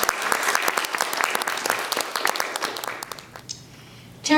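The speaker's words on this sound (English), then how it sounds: "we want to give a real applause to them" Audience applause at a literary reading, dense rapid clapping from a room full of people that thins and fades toward the end, followed by a brief sharp sound.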